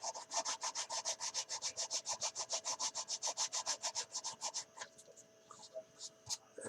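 Sandpaper rubs back and forth over seams on an old plastic Airfix 1/72 Short Sunderland model kit, a steady close rhythmic rasping of about thirty strokes that slows and trails off near the end.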